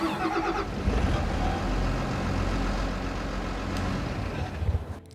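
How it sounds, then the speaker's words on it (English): Articulated tractor engine in Farming Simulator turning over and running, a loud steady low diesel rumble with a swell near the start and another near the end, no talking over it. "I'm gonna turn that engine over and be quiet."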